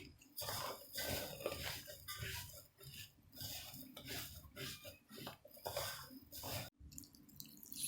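Water poured into a Harput köfte mixture being kneaded by hand, with clattering and wet squishing from a bowl in a close, busy kitchen, no talk.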